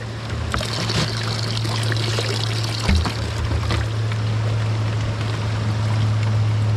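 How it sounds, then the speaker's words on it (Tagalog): Water runs steadily at a natural spring, a loud continuous rushing and trickling close by, with a low hum beneath and occasional small splashes. "Tayo po narito na pala sa bukal, oh."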